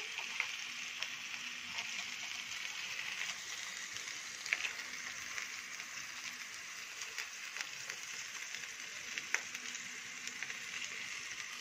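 Vegetables sautéing in a pan while a potato and chicken tray dish is being prepared: a steady, soft sizzle that continues throughout, with a few faint clicks and stirring taps and no talking.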